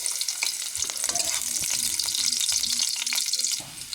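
Garlic sizzles and crackles steadily in hot cooking oil in a pan, a dense continuous frying hiss with scattered sharper pops and light stirring scrapes, close and fairly loud with no voices.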